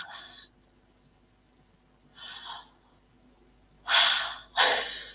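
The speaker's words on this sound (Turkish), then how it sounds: "Hadi o zaman derin bir nefes alalım." Deep breaths drawn in through the mouth, three audible airy inhalations, the last two strong and close with a brief gap between them, with no speech over them.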